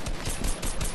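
Gunfire in Fortnite during a Volcano and Loot Lake match, a dense cluster of several quick shots over about a second, loud and close, with no talk over them.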